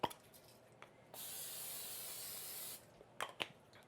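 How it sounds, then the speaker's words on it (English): A can of cooking spray releases one steady hiss of about a second and a half onto a grill pan heating on high, close and clear, with small clicks and handling noises before and after. "I'm going to spray my grill pan"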